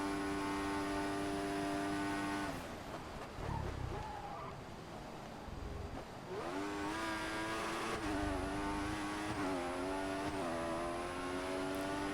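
Formula 1 car engine in the video game F1 2014, a high, sustained whine on the straight that drops away under braking, then climbs again through rising gear changes, loud and close, with faint tire noise.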